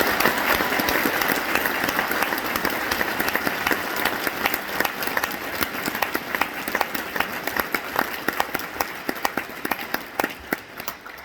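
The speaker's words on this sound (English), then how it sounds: "these students need a huge round of applause right now" Loud, sustained applause from a large audience, steady clapping filling the whole stretch with dense, sharp claps throughout.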